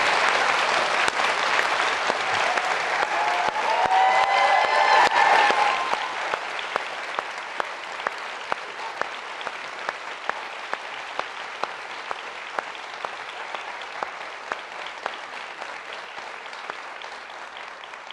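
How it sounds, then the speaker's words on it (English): An audience at Georgetown Law applauds after a distinguished lecture to the graduating class; sustained, full crowd clapping that swells for several seconds, then thins into scattered sharp individual claps that taper off. "A round of applause for that."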